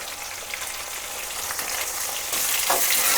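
Tomatoes and golden onions fry together in a pan for a raw mango fish curry, a close, continuous crackling sizzle with faint stirring that grows louder toward the end.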